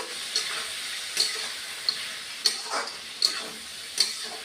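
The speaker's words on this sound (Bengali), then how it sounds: "কুচানো পেঁয়াজ দিয়ে দিলাম" Chopped onions fry in a pan under a soft, continuous sizzle, with a spatula tapping and scraping about six times at a fairly even pace, close by and quiet, with no speech.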